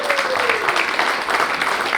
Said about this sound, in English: Give yourselves a round of applause, boys.